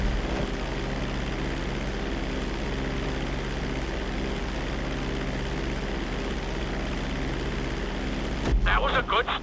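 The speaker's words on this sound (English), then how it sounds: "Hold the throttle all the way down to pick up speed, and pull back on the stick to take off." A propeller airplane in a flight-school video game, its engine droning steadily and loudly as the throttle is held down for the takeoff run, with a voice coming in near the end.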